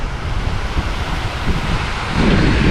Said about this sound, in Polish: Woda płynie